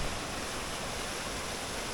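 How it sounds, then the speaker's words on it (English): Big Creek Gulf in Savage Gulf runs high after heavy rainfall, its waterfalls sending up a steady, loud, broadband roar of rushing water with no voices over it. "After all the rainfall we've had, the Big Creek Golf is roaring."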